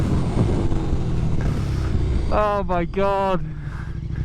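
A KTM MotoGP bike and cars, including a Porsche 911 Turbo and KTM Super Duke R Evo, roar past in a drag race, loud engine noise with a rising high-revving whine, under an excited shouting voice.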